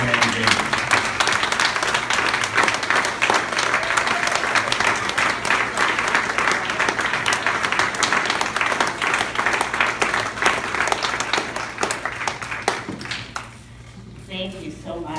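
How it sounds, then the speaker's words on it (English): Sustained, loud applause from a standing audience at a campaign kickoff for Representative Ruth Ann Gaines, a steady wash of clapping that fades near the end. "Let's stand up and give a warm welcome applause for Representative Ruth Ann Gaines."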